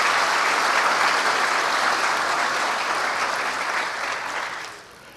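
An audience at an evening gala of an international finance summit breaks into loud, dense applause that holds steady for several seconds before tapering off at the end.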